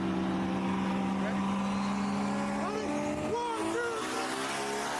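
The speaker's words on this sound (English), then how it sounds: "That was a twin turbo Corvette." A twin turbo Corvette drives past on a street at night, its engine note rising and sweeping by with a pitch shift, loud over steady background engine drone and some talk.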